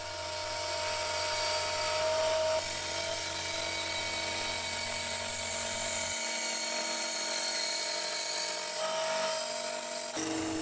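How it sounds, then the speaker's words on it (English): A new bandsaw cutting wooden supports for loft shelving built from 2x1s and plywood, a loud continuous whirring blade with a dense rasping cut that shifts in tone partway through, and no talk. "I took it over to my new bandsaw to cut the supports out."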